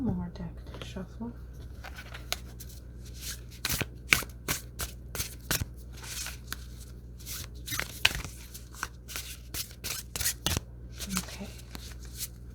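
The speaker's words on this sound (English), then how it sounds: "one more deck to shuffle." A deck of tarot cards being shuffled by hand, with crisp riffling bursts and sharp slaps coming in irregular clusters, close and fairly quiet.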